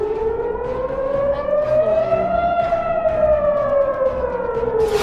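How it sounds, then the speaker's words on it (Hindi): Air raid siren wailing in Israel as a warning of incoming Iranian missiles, a loud, steady rising and falling civil-defense tone that carries through the whole stretch with no voices over it. "जब आसमान में ईरान की मिसाइल नजर आती है तो इजराइल में सायरन बजने लगता है।"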